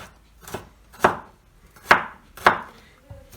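Four or five sharp knife chops slicing garlic on a wooden board, evenly spaced about half a second apart, close and crisp with no talking.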